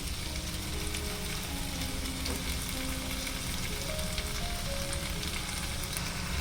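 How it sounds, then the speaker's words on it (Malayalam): Washed chicken pieces go into a pot of potato stew base and sizzle in a steady, dense crackle, fairly quiet, with faint stirring, some thin tonal whine in the background and no talking. "ഞാനിവിടെ കഴുകി വെച്ചിരിക്കുന്ന ചിക്കൻ ഇതിലേക്ക് ചേർത്ത് കൊടുക്കുന്നുണ്ട്"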